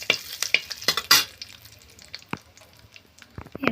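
Cumin seeds and a bay leaf frying in hot oil, a bright crackling sizzle with sharp spits and pops and a few utensil clinks, close and without speech.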